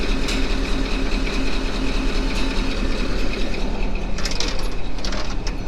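A Caterpillar D11 bulldozer engine runs steadily after reassembly, a loud continuous mechanical drone with rattling, clanking texture and no pauses, heard close up throughout.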